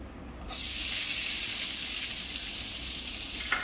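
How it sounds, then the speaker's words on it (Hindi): Finely chopped onion drops into hot frying masala, setting off a sudden loud sizzle that starts abruptly and holds as a steady broad hiss, with no talk. "इसमें मैं प्याज डाल रही हूँ।"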